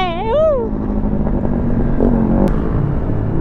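A steady, close rumble of motorcycle engines on the Marilaque mountain road, with a brief voice-like tone near the start and a continuous drone underneath.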